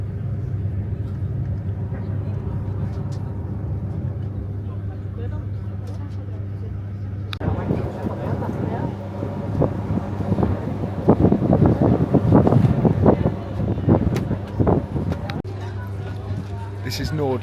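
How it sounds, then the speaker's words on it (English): A steady low boat engine drone on deck, with wind buffeting the microphone, growing rougher and louder midway, with a voice talking over it, near Nordkoster. "We're on a bloody boat, aren't we?"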